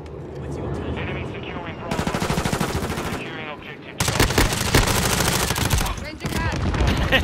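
MP5 (Lachmann Sub) fired from the hip in Modern Warfare II, loud rapid automatic bursts in several long strings separated by short gaps, close and dominant.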